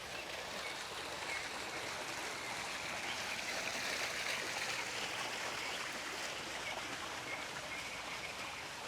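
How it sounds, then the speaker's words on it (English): Outdoor fountains run with a steady, even rush of splashing water, a broad continuous wash that holds level for the whole stretch with no pauses and no voices. "You got the fountains here."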